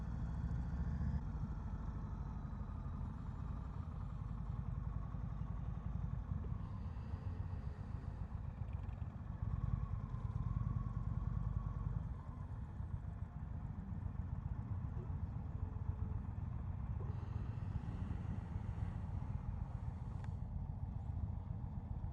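A 2021 Indian Springfield Dark Horse motorcycle idles steadily nearby, a continuous low engine rumble with slight shifts in tone and no speech over it.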